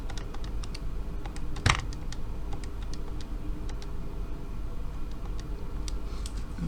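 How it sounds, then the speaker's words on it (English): Fingers tapping numbers on calculator keys, a run of light, quick clicks in an irregular rhythm, close and clear over a steady low background hum. "we'll type that on our calculator"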